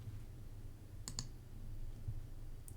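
A computer keyboard gives two or three quick, faint clicks in quiet room hiss, with a light tap near the end.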